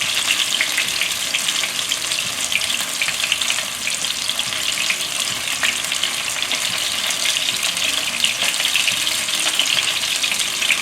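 Chicken pieces fry in hot oil for spicy La Zi Ji chicken, a dense, constant crackling sizzle that stays loud and close throughout as the pieces are turned, with no voices.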